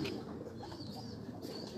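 A Ferozpuri pigeon coos softly in a few faint, low, rolling notes, quiet and close, with no talking during the calls.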